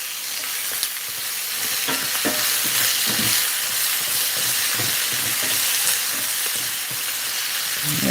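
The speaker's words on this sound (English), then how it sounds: "I got some tomatoes in there sizzling away" Tomatoes sizzle and crackle steadily while frying in a pan, a loud, continuous hiss dotted with sharp pops and spatters, with no voices over it.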